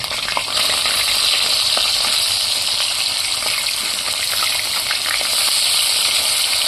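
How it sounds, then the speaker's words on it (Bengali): Fish frying lightly in oil in a pan, a steady close hissing sizzle throughout with faint scattered crackles and occasional utensil clinks, no talking. "মাছটাকে একটু হালকা করে ভাজা যাবে"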